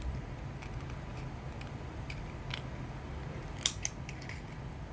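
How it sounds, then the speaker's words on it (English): Scissors snip quietly through material in a few crisp, scattered cuts over a low steady background hum, ending with a sharper pair of snips. "So I'm just going to take my scissors."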